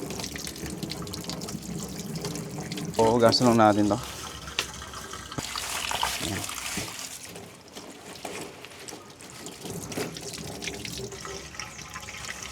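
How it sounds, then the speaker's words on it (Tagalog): Running water pours steadily from a tap, a strong continuous rush with a voice speaking briefly over it. "Ang lakas ng tubig guys oh"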